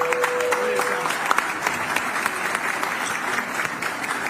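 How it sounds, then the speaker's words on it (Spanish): An audience claps for students standing up in a television studio, dense sustained applause from a crowd filling the whole stretch at a moderate level. "Un aplauso para ustedes."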